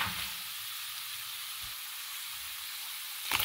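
Chana dal frying in hot oil for lemon rice, a steady bright sizzle and hiss running throughout with a brief louder crackle at the very end, close and with no talking.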